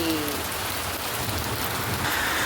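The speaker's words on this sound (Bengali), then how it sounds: "যখন অতিরিক্ত হাঁসফাঁস গরম পড়ে তখন এরকম বৃষ্টি হলে তো ভীষণই ভালো লাগে" Heavy rain pours down late at night in a spring thunderstorm, making a dense, steady hiss of drops on surfaces with no pauses.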